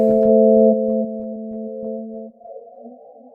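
A sustained synthesizer chord rings out through a Valhalla Supermassive reverb while its warp is adjusted, with faint rhythmic delay repeats pulsing under the held tones before the sound thins into a wavering tail.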